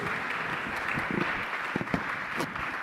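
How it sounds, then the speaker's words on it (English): Audience at a military aeronautics panel on the blue and space economy claps for the panelists, a moderate, even patter of applause with a few sharper nearby claps. "I want to give another round of applause to all the panelists for the nice contribution."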